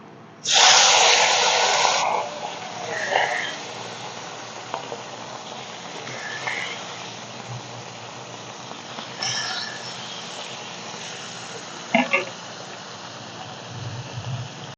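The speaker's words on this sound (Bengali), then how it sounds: "তেল গরম হয়ে গেছে এখন মাছগুলো ভেজে নেবো" Fish dropped into hot mustard oil in a pan bursts into a loud sizzle, then settles into a steady frying crackle with occasional louder spits, close and continuous.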